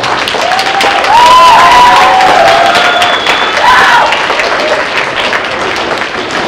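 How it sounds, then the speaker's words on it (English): Audience applauding students at an evening arts event in Sacramento, a dense, steady wash of clapping and crowd noise with some cheers and whistles, fairly loud throughout. "So let's give them a big round of applause."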